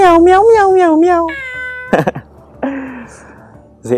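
A cat meows repeatedly up close, with drawn-out, wavering cries followed by shorter calls, loud and clear with a few sharp noises between them.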